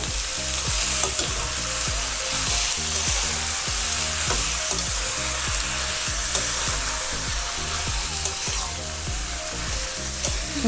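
Chicken with salt and home-ground turmeric sizzles over a medium flame in a pan while a spoon scrapes and turns it in a steady, repeated rhythm, close and fairly loud with no talking.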